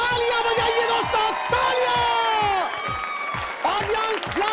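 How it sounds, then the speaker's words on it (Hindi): An audience claps to welcome a guest onto a stage show, with steady continuous applause that dips briefly and then swells again, and no talk over it. "कुमार पुनीत आ चुके हैं दोस्तों, उनके स्वागत के लिए तालियां बजाइए दोस्तों,"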